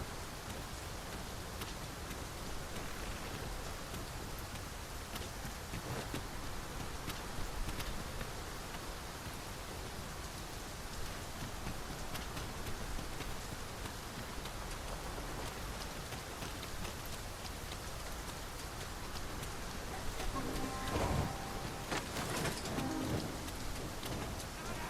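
Heavy rain pours steadily in the video game Dragon's Dogma 2, a dense, continuous hiss of drops with a few stronger gusts and a distant rumble of thunder, with no voices.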